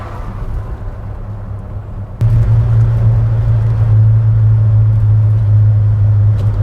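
Steady low rumble of a 1963 Studebaker V8 car engine while driving, jumping louder partway through as the engine pulls harder, then holding a constant droning hum up close.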